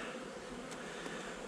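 Honeybees buzz steadily at a hive during a swarm inspection, a dense continuous hum that stays close and even throughout with no voices.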